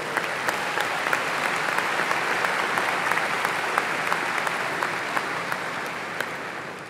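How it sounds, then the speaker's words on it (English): Audience applause at a Texas A&M University-San Antonio spring commencement ceremony, steady sustained clapping from a large crowd holding an even, dense level throughout. "Let's give every one of those a great big round of applause."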